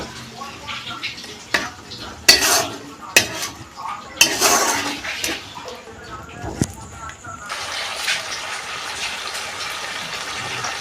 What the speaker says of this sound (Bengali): গ্রেট করা আদাটা দিয়ে দিচ্ছি একটুখানি কষিয়ে নেবো